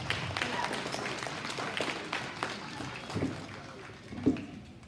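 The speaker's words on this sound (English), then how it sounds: "Let's give her a big round of applause." Audience applause at a cattle show after a heifer is placed, a moderate wash of clapping from the arena crowd with a few louder claps near the end.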